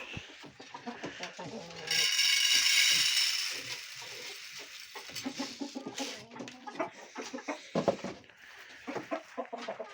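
Chickens, including young hens, cluck and murmur close by, with rustling and scattered handling noises, and a bright hissing burst partway through.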